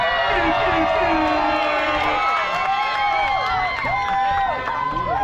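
Loud crowd cheering and shouting fills a Thai boxing venue, with voices rising and falling continuously and a few higher whoops cutting through near the start.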